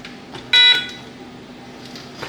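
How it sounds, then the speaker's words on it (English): A Viking E-1600A emergency phone gives a single short electronic tone as its touch-tone pound key is pressed, loud and close against a quiet background. "if you push pound on the touch tone phone"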